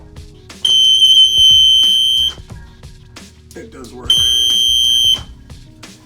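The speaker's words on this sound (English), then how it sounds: "So when I flip this upside down, this alarm should kick off" Sump pump failure alarm flipped upside down sounds two loud, steady high-pitched beeping blasts, the first about two seconds and the second about one, with someone talking between and after them.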